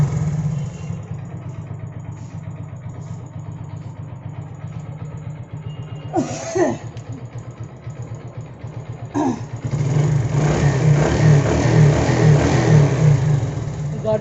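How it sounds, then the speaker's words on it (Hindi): A Hero Glamour motorcycle engine runs at a steady, close idle, its low rumble continuing throughout, then it revs up and grows louder near the end; the bike needs a full engine repair, with burnt-off oil and worn internals. "गाड़ी देखो स्टार्ट है।"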